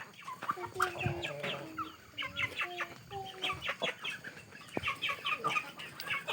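Chickens cluck repeatedly in a morning garden setting, a close flurry of short, rhythmic calls and squawks from several birds, with no talk.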